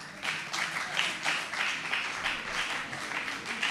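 An audience at a French school contest show claps for a few seconds in dense, even applause, close and lively throughout.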